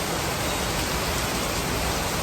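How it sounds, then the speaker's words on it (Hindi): Steady rain falling outdoors in a residential society courtyard, a dense continuous hiss without breaks throughout, close and fairly loud, with no voices. "बारिश रुकने का वेट करें, लेकिन बारिश का रुकने का टाइम होता नहीं है"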